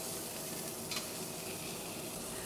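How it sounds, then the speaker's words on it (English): Filet mignon steaks sautéing in clarified butter, a constant close sizzle and crackle of frying with one brief brighter spatter, steady throughout and fairly quiet. "The steaks are sautéed in clarified butter."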